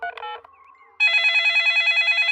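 Cartoon telephone ringing after a call is dialed, a steady loud electronic ring with a warbling pulse following a few short dialing tones, close and clear.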